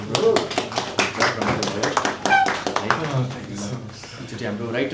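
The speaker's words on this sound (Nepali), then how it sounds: "ओके गाइज, एकचोटि हाम्रो आवाजजीको लागि ताली बजाइदिउँ प्लिज" A film crew behind the scenes of a United Cements shoot applauds the voice artist with a rapid run of group claps, close and lively, mixed with people talking throughout.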